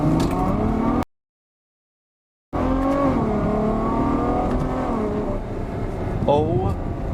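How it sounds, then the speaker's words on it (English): Ferrari FF accelerating hard after a downshift into first, its engine roaring loudly with rising revs through the gear under excited talk, after a brief silent gap. "we're just gonna step on it. We're gonna downshift into first."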